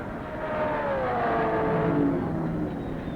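An Indianapolis turbine race car running hot laps, a smooth sustained jet-like whine and roar that swells and holds with a slight pitch sweep, heard at a distance over a rough, vintage-film background hiss.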